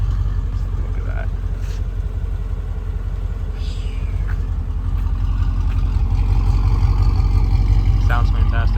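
A Mercedes S55 AMG fitted with long tube headers idles up close, a deep, steady low-pitched rumble that runs unbroken and grows slightly louder toward the end.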